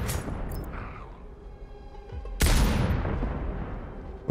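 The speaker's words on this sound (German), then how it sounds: "Und dann dahinter voll ins Auto ballern." Gunfire from explosive sniper rounds fired into a car in the video game Sniper Ghost Warrior Contracts 2, a loud sharp blast with a long booming decay over a rumbling game backdrop.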